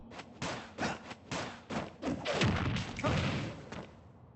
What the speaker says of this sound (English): This is gun dashing.